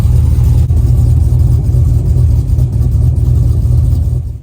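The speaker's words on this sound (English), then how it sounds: "Go cold start on the truck." A Dodge Ram pickup truck's engine idles loud and close with a deep, steady rumble after a cold start, then cuts off abruptly at the end.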